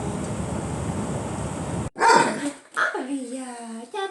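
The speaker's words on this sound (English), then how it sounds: "It's a new baby puppy." An eight-week-old puppy, newly brought home, gives a short bark followed by rising whimpers and yips, close and fairly loud, after a stretch of background noise; a person talks around the sounds.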